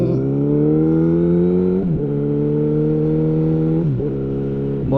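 A car engine hums loudly and close by with a strong, steady tone that dips twice as the driver shifts gears and then builds again, so it sounds more like riding in or beside the car than a quick pass-by.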